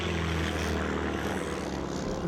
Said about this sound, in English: First airplane would pass the second, releasing a trail of smoke into which the second plane would disappear.